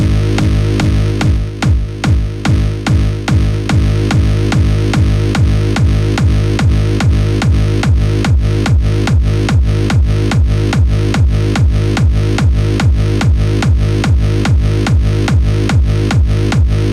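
An offbeat reverse bass made with a free sidechain plugin, pulsing loud and close in a fast, steady rhythm, each swell ducking sharply before the next beat for the whole stretch.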